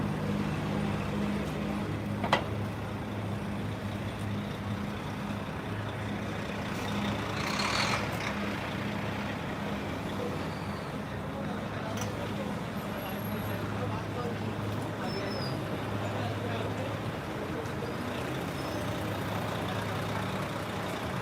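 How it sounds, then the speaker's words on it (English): Heavy Midtown Manhattan street traffic on Fifth Avenue in winter, with trucks and buses idling and rumbling, a hiss of air brakes, and a steady city roar throughout, while someone talks over it. "Wow, there's so much traffic here."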